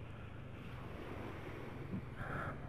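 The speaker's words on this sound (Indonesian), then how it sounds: "Cukup datar, nggak ada ombak yang besar." Sea waves at Watu Dodol beach on the Bali Strait, a steady broadband wash of fairly calm surf with wind buffeting the microphone and no talk.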